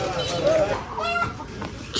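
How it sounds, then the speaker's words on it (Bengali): Chickens cluck and squawk nearby in short, rising calls over a busy indoor background, with people talking around them. "কি রে মুরগি কই উঠছে"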